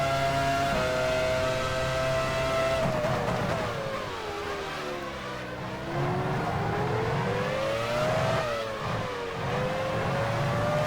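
Formula One race car engine in the racing game F1 Challenge 99-02, a loud, continuous high-revving whine that rises and falls with gear changes and throttle through corners, with no voices.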